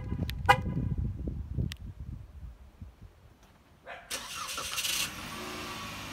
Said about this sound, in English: So here's this remote start.